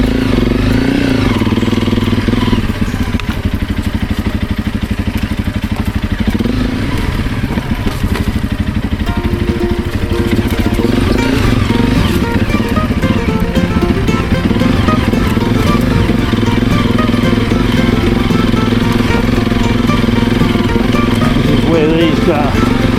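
A Honda CRF300 Rally motorcycle engine runs loud and close throughout a trail ride, a continuous rough drone with rattles and crackles from the terrain.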